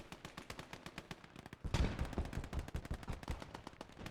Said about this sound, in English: Bit of a firefight going on here.